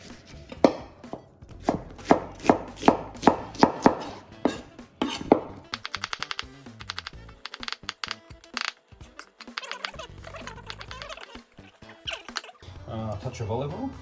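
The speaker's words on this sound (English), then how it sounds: "So what we need is 1 onion, just roughly chopped." A single onion is roughly chopped with a knife on a board, giving a quick series of sharp, close knocks, then scattered softer taps and kitchen clatter.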